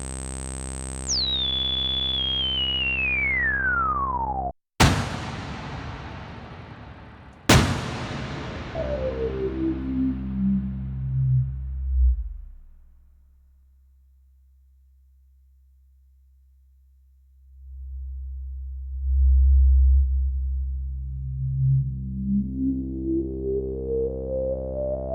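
A GForce Prophet 5 software synthesizer compared with the hardware sounds a pure tone gliding downward, then two sharp clicks, then a stepped sweep falling to a low drone, a near silence, and a stepped rise back up through semitones.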